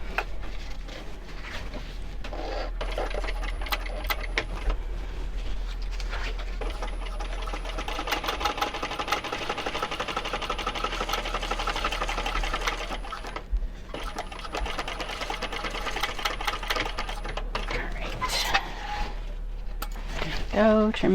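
A sewing machine runs in a long, loud continuous burst, stitching a shoulder bag. The motor whirs steadily with a brief pause near the middle and a few small clicks toward the end.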